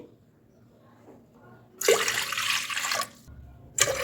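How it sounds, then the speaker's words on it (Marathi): Water poured from a glass into a large cooking pot while making sago and potato papad, a couple of splashing pours, the first lasting about a second, then a brief second pour, with quiet room sound before. "आता या पातेल्यामध्ये मी घेते पाच ग्लास पाणी"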